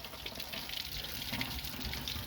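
Coolant water streams out of the frost plug holes on a Chevy C-10 pickup engine, a steady faint splashing trickle with no talk.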